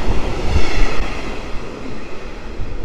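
A train passing through Warszawa Powiśle station on an autumn day, a loud, close, continuous rumble and roar of rolling stock that holds steady for about three seconds, with no voices.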